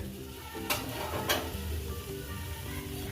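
Prawn malai curry ingredients sizzle in hot mustard oil while being stirred in a pan, a close, continuous frying hiss broken by a couple of sharp scraping strokes.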